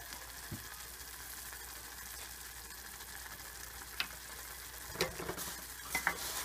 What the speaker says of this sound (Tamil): நல்லா மிக்ஸ் பண்ணி விட்டுக்கிறேன்.